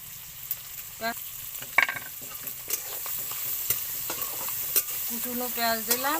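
Chopped onion frying in a pan after salt and turmeric, a constant sizzle broken by repeated clicks and scrapes of stirring, with faint tonal background sounds.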